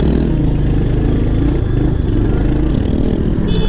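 A Royal Enfield Hunter 350 rides along in third gear at low speed on city streets, its single-cylinder engine thumping in a steady, loud, continuous drone with faint clatter and wind, and a brief high tone near the end.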